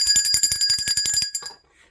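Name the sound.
bell being rung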